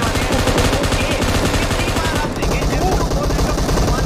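Rapid, sustained gunfire from a battle royale video game, with dense overlapping bursts that run loud and continuous throughout, while a voice talks underneath.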